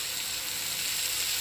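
Eggplant pieces sizzle in hot oil in a pan, a steady close hiss of frying that holds at an even level and stands alone with no talk.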